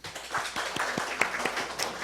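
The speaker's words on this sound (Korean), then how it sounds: "우리 박수 한번 칠까요?" A church congregation gathered for Sunday worship claps together in thanks, a faint, brief patter of scattered hand claps heard at a distance, with no clear voice over it.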